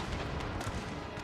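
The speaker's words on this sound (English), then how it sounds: "Are the cannons firing? Yes, they are. Good boys, cannons." Cannon fire in Napoleon: Total War during a Russian Campaign battle, a dense continuous rumble of distant artillery booms rolling together without a break.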